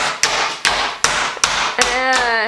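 Five heavy stomping footsteps land at a steady walking pace, loud and close, with a hard thud and scuff on each step.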